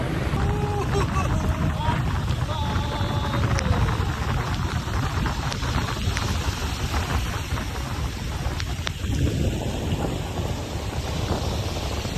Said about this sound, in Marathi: इकडे समोर पाऊस पडतो पण इथे पण आता येतो